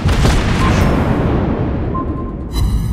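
Torpedo explosions in World of Warships Blitz, a loud, deep rumbling boom that fills the whole stretch and slowly fades out, ending in a brief clipped tail.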